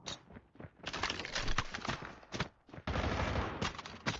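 Rapid pistol fire from a Desert Eagle in a first-person shooter game, a dense run of loud sharp shots in quick bursts with brief pauses, close and dominant throughout, no talking.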